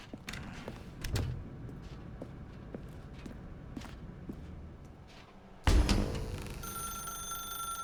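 A telephone rings in the video game The Stanley Parable, a loud burst of bright ringing that starts near the end, after quiet footsteps and thuds in a dark room, and carries on steadily to the close.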